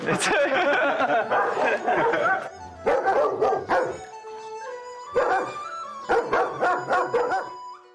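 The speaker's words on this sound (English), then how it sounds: "As the bird dog stands guard outside" A bird dog barking outside a house: bursts of repeated barks and yips with short gaps between them, close and loud, with voices mixed in.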